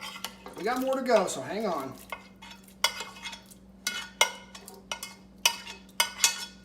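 Pierogi soup ingredients being transferred and stirred in a pot, with scraping spoon strokes and clinks of metal against cookware in an irregular series, after a short stretch of speech at the start.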